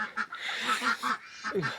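Muscovy ducks give a series of close, breathy quacking calls in quick succession, loud and clear with no talking, one call at the end sliding downward.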